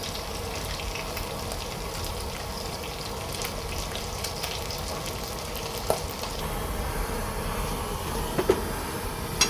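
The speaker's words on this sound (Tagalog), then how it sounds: "nagbisa tayo ng bawang, sibuyas, at saka kamatis guys" Garlic, onion and tomato sautéing in a pan, producing a constant crackling sizzle with a few sharp clicks and utensil taps near the end.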